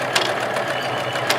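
A sewing machine runs a zigzag stitch on a small heart-shaped fabric piece, giving a steady, rapid mechanical chatter with a few sharper clicks, close and clear with no talk.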